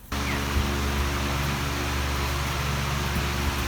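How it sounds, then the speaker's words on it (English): An electric fan running inside a chicken coop, a steady loud whooshing rush with a low motor hum, switching on abruptly and then holding constant and close. "Let me turn the fan on for them."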